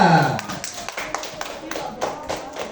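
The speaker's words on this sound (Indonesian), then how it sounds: "beri tepuk tangan lagi untuk kelompok Sumatera" Schoolchildren in a primary classroom clap for a group of classmates, a scattered run of sharp claps that fades unevenly, with a teacher's voice talking over the start.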